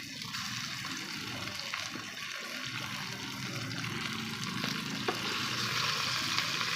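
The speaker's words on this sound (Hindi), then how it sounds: "अब इसको अच्छे तरीके से चिकन को इसके साथ हम फ्राई करेंगे" Chicken frying with onions in a pan for kadu gosht, a loud steady sizzle and bubbling heard close, with a couple of faint utensil taps.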